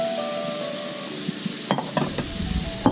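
Onions, peppers, broccoli and yellow squash sizzle steadily in a hot pan, a constant frying hiss broken near the end by a few sharp clinks and scrapes of stirring.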